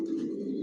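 Racing pigeons in a loft give a low, steady coo, a single soft throaty call held close by with no other sounds around it.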